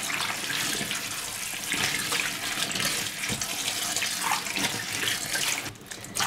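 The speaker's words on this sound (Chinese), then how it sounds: "把这个辣椒给它反复的冲洗干净。" Chopped chili peppers are rinsed under a running kitchen tap, a loud, steady gush of water splashing over them with shifting surges as they are turned and washed, close and without talk.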